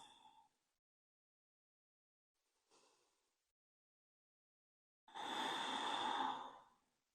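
A long, slow breath out during a grounding yoga session, a soft airy rush that swells and fades near the end, preceded by a couple of fainter breaths in otherwise quiet surroundings.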